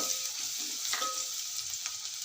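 Ginger garlic paste frying in hot oil with a pinch of turmeric, a steady close sizzle with faint stirring scrapes and no talk.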